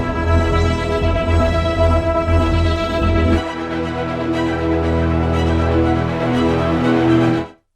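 Heavyocity Novo sound library playing a lush, sustained string-like instrumental texture of layered harmonic tones, loud and continuous, its character shifting partway through before the sound cuts off abruptly at the end.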